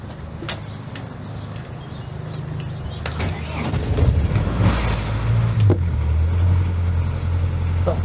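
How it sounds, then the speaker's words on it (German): Motorboat engine on a windy morning at Neustrelitz running steadily with a low rumble, swelling slightly partway through, with occasional knocks and no talk. "Motor, jetzt endlich geht's los."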